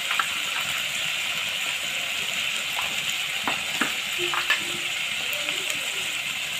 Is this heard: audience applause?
no